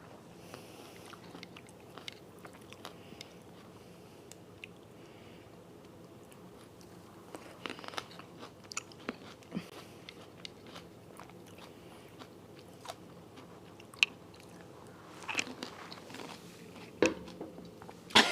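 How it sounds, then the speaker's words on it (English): Crunchy grapes being chewed up close in a quiet room: soft, irregular bites and wet crunches, sparse at first and then denser and louder, with a few sharp crunches near the end. "How do you make those grapes sound so crunchy?"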